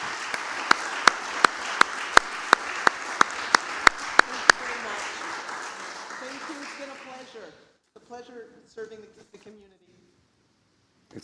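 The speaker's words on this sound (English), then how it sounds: "she deserves quite a round of applause" Audience at a Town of Mont-Royal council meeting clapping for a staff member's 40 years of service, with sharp claps over steady applause that fades after about seven seconds, followed by quiet voices and murmuring.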